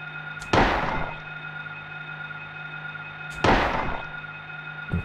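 Two loud, close gunshots in the horror video game Silent Hill, each a sharp blast with a decaying tail, about three seconds apart over a steady tonal hum.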